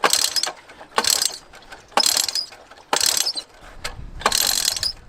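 Abandoned three-wheeler engine being pull-started: five sharp rasping ratchet pulls about a second apart, each a loud bright whir that fades, with no clear catch between them.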